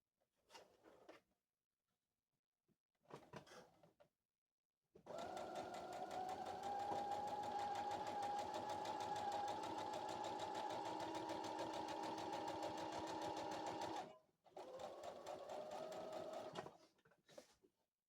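A sewing machine stitches gingerbread-print fabric curtains, with a couple of short bursts, then a long steady run of rapid needle clatter, then another burst; close and fairly quiet.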